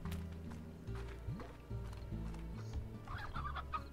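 Chicken clucking in a video game, repeated short clucks over a steady low game hum with hoofbeat-like thuds, fairly near and moderately loud.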